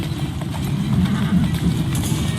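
Hooves of a horse-drawn carriage in Assassin's Creed Syndicate clop loudly and steadily over rumbling wheels, a close, continuous trotting rhythm with no talk.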